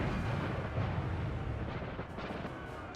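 Twelve-pounder cannons firing in Napoleon Total War, heard as deep, rumbling booms rolling together in a continuous low thunder that fades slightly over a few seconds.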